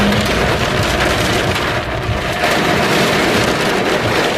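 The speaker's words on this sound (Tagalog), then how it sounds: "Grabe ang thunder." Heavy rain pours steadily in a dense, continuous hiss, with low rumbling that suggests thunder rolling through the storm.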